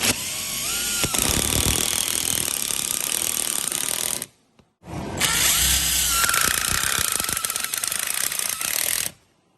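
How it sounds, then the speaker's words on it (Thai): A brushless 12-volt Xcort impact driver drives screws in two long, loud bursts of rapid hammering with a high whine, broken by a short pause near the middle. "การขันสกรูนี่เข้าไปเนี่ย เป็นฝีมือของเจ้า Impact Diver"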